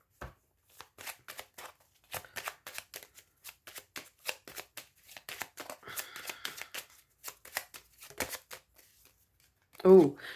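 Tarot cards being reshuffled by hand, a run of crisp, irregular riffling and flicking sounds at close range, ending in a brief louder thump.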